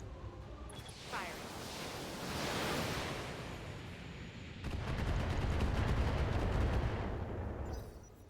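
Mech weapons firing in the BattleTech video game: a burst of rushing blasts, then a denser, louder barrage of rapid repeating shots rumbling on heavily before easing off.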